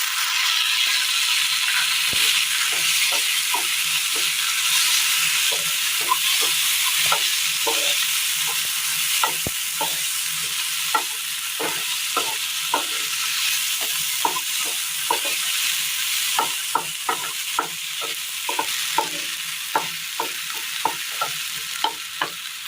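Onions and tomatoes sauté in a pan for a Kerala curry, a steady close sizzle broken by repeated short scraping strokes of a spoon stirring, quickening toward the end.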